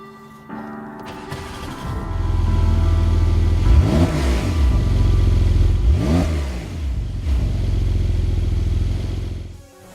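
A Porsche 911 Carrera 4S of the 992 generation, with a petrol particulate filter, revs hard with a loud mid-pitched engine roar. Two sharp rising sweeps show it accelerating through the gears before the sound settles and fades.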